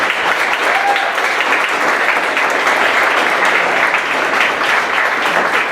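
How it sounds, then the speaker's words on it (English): A large audience at a wrap-up event applauds the organizers, steady dense clapping filling the whole stretch at close, even loudness with no break. "Everybody needs to give these guys a massive round of applause"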